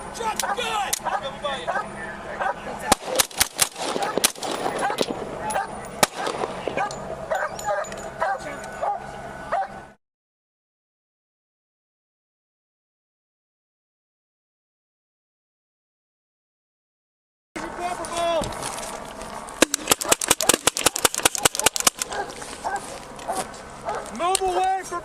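A police K9 dog barks and yips repeatedly at an armed-man standoff, close and loud over shouting officers, with a break of silence midway and further rapid barking afterward.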